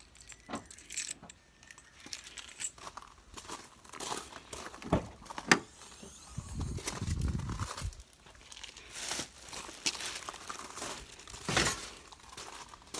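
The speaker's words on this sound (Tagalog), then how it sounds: "Buksan natin yung kotse." Keys jangle and plastic crinkles while a car is opened, with clicks, rustling and a brief thump, close by in a quiet outdoor setting.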